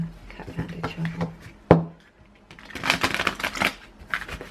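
Oracle cards are shuffled in quick, papery bursts of riffling and sliding. A nearby voice talks over and between the shuffles, and one sharp tap stands out.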